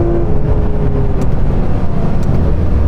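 A Porsche GT3 RS with a racing kit drives hard, its engine a loud, close, dense roar. A sustained tone drops away partway through at a gear change.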